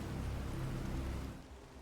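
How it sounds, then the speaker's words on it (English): Heavy rain in Planet Crafter on the moon Selenea, a dense, steady hiss of downpour filling the short moment and softening slightly toward the end. "Oh, heavy rain."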